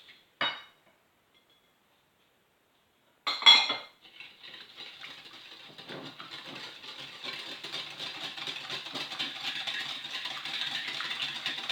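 Semolina batter for Moroccan harcha galette is whisked in a bowl with added sugar. Two brief knocks come first, then a steady, close, rapid rattling and scraping builds and continues to the end.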